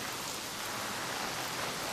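Steady rain falls in a dense, even hiss with fine droplet patter, continuous and close, with no voices.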